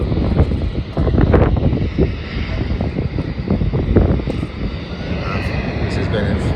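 A Jetstar Airbus A320 departs from the east-west runway at Melbourne Airport, a loud, rumbling jet roar with gusty wind buffeting the microphone and a voice speaking over it.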